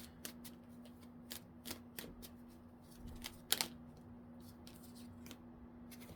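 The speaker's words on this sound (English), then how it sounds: "Spirit wanted me to do a big shuffle and really shuffle the tarot up some more" Tarot cards being shuffled by hand: a run of quiet, crisp riffling and flicking bursts with one sharper slap midway, close but faint over a steady low hum.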